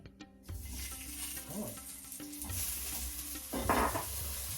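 Wet potato pieces fry in a pan for a rohu fish curry with cauliflower, making a close, continuous sizzle with soft scraping from stirring and a short louder crackle toward the end.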